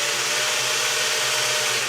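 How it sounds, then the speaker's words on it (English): A power drill bores slowly through a wooden kitchen cabinet door, a steady close whirring grind that holds evenly for about two seconds with no pauses. "So open the door and then drill very slowly through"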